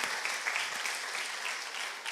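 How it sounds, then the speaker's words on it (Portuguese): Church congregation applauding at the close of a Portuguese-language sermon, a steady dense wash of clapping that holds at an even level throughout with no voices over it. "Um aplauso para vocês mesmos."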